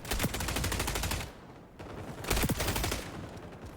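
Video game gunfire, two close bursts of rapid automatic shots separated by a brief pause, loud and dense.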